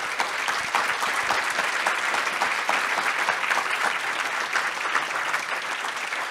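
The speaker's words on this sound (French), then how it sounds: "On peut applaudir nos participants." Steady, dense applause from an audience at the close of a round-table panel, holding at an even level across the whole stretch with no voices over it.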